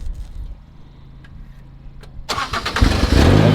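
An engine cranks and fires back up after a quiet stretch with a few faint clicks, then settles into a loud, rough, close running rumble.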